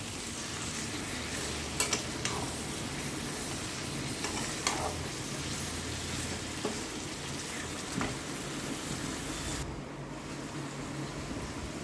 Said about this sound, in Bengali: দেখো মাংসটা দিয়ে দিলাম। এবার এটাকে ভালো করে নেড়ে নেব।